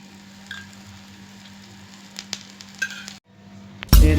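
Black urad dal adai frying in sesame oil in a pan gives a soft, steady sizzle with occasional scraping and stirring clicks, close by, ending in a sudden loud burst of sizzling as more oil goes in.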